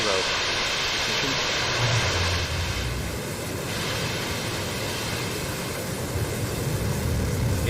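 Blue Origin New Shepard rocket engine roaring at liftoff during the NS-20 crew launch, a loud, steady broadband rumble that fills the whole clip without letup, distant and continuous.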